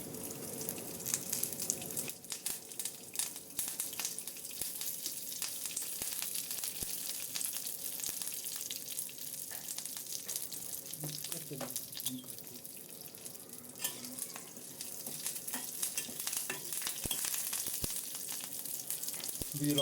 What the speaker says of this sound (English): Now I'll add the curry leaves and the hing or asafoetida.